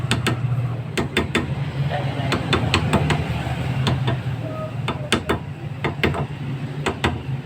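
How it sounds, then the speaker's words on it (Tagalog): Sharp metallic taps of a hammer on a car brake drum, a dozen or so irregular strikes at close range over a steady background hum. "Gamitin nyo lang konti ng hammer. Dahan-dahan lang ito po."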